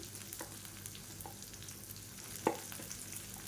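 Chopped small onions fry in oil in a pan for a spicy moong dal appam, giving a faint, steady sizzle with one brief clink of the stirring utensil partway through.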